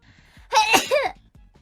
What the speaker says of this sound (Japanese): あー、くしゃみ出そう。